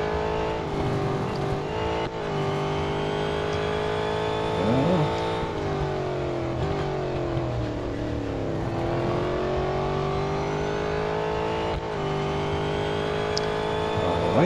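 A GTE-Pro race car, an Aston Martin or Porsche, roars around Hockenheimring in Real Racing 3, its engine note loud and continuous as it climbs and falls through gear changes.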